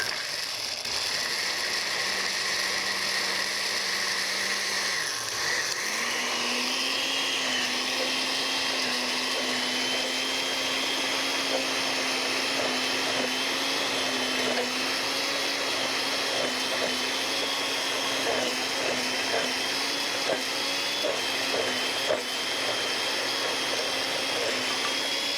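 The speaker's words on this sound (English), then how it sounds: "put them into your blender and add your water, and then just blend that up until it's blended nicely" A kitchen blender runs steadily, blending soaked ingredients with water into a batter, a continuous loud whirring motor tone that shifts pitch after a few seconds and then holds with a slight mechanical rattle.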